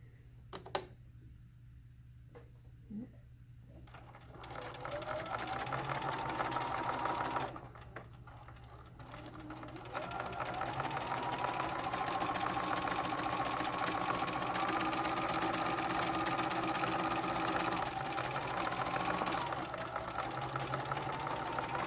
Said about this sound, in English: We're going to sew all the way down to here.